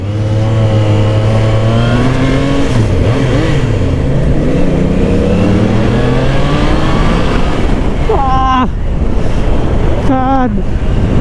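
A 2024 Triumph Trident 660 naked motorcycle being ridden, its engine revving up and down with rising and falling pitch and quick gear-change dips near the end, all under a constant loud rush of wind.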